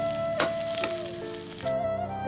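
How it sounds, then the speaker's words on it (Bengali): Fish filling with grated potato stirred in a hot pan for fish rolls, a steady close sizzle of frying with a couple of sharp scraping strokes and a lingering tonal ring from the pan, no talk. "দিয়ে আমি খুব ভালোভাবে আবারও নেড়ে চেড়ে ভেজে নেবো।"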